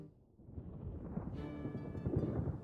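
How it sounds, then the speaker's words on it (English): A rumble of thunder from a lightning strike in the video game Pokemon Pokopia builds from quiet to a deep, heavy roll, with a higher crackling layer joining partway through. "Snorlax has been struck by lightning."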